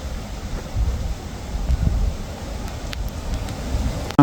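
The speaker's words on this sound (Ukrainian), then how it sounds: "Вітер грається." Steady low wind rumbling and buffeting across the microphone, with gusts swelling and easing throughout.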